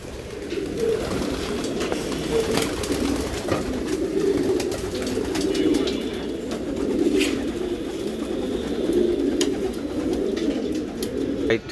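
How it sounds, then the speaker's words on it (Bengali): Male racing pigeons in a loft in Mirpur, Dhaka coo softly and steadily while bathing, with light splashes and flutters over a continuous low murmur of many birds. "আর এইদিকে তো নর কবুতরগুলা গোসল করতেছে"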